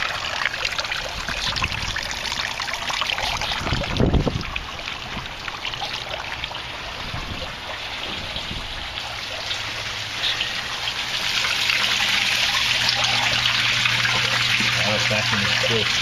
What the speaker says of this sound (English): Now those overflows will drain this bed back down far enough